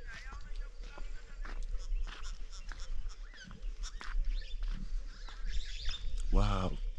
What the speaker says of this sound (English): There's another bird.